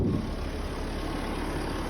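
A 2011 Volkswagen Touareg engine runs at a steady idle, a low, even hum at moderate distance that holds without change for a couple of seconds.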